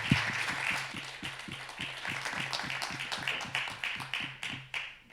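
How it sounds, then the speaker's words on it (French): An audience claps for the Composite Bois construction team at a trophy ceremony, with steady, fairly close claps and a few sharper, louder ones near the start, and no talk over them. "S'il vous plaît, on les applaudit"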